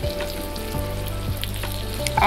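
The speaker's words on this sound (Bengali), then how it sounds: "আলুগুলো দিয়ে ভাজা ভাজা করে নেব খুব ভালোভাবে" Boiled potatoes frying with onion and green chilli in hot oil, a loud, close, continuous sizzle with slight shifts as the pieces settle.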